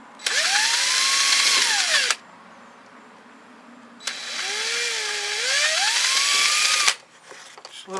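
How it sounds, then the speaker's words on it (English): A power drill with a 5/64 inch bit bores a pilot hole while an hour meter is mounted, running in two close, loud whining bursts of about two and three seconds, its pitch sweeping up and down, with a quiet gap between. "I'm going to use a 5/64 just as a pilot bit, just to get this going."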